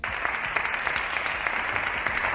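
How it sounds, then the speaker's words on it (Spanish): Sustained applause fills a nearly empty Spanish Congress chamber, steady and fairly dense clapping for the cleaning staff who disinfect the microphone and rostrum, with no voices over it. "los aplausos al personal de limpieza que, después de cada intervención, desinfectaba el micrófono y la tribuna"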